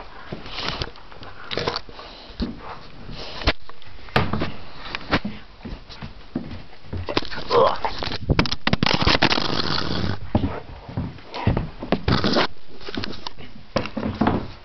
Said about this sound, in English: That was the sound of a newfie crash.